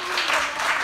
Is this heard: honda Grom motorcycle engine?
no